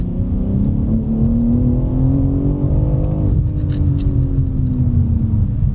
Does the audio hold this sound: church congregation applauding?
no